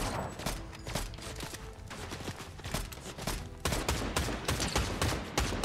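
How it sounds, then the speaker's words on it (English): Rapid gunfire in a Fortnite match, dense bursts and crackling shots overlapping one another, loud and continuous throughout with sharper volleys toward the end. "They're shooting at us"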